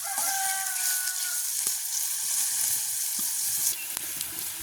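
Deep-frying in a pan at an outdoor village kitchen makes a dense, steady sizzle close by, with a rooster crowing faintly in the background early on and a few light clinks.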